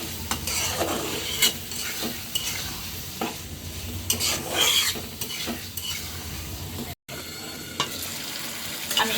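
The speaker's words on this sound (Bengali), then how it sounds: "এখন এই যে এটা টমেটোর সাথে মশলাটা ভালো করে কষিয়ে নিব।" Tomato with ground spices, including coriander powder, stir-fried in a pan: a continuous close sizzle overlaid with frequent scraping and clinking of a spoon against the pan, pausing for a split second near the end.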